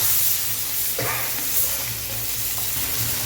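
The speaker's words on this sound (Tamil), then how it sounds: "இப்போ கருவேப்பிலை ஆட் பண்ணுறோம்" Curry leaves go into hot oil for a mutton brain pepper fry, giving a steady sizzling hiss throughout with a brief sharper crackle burst near the start as they hit the pan.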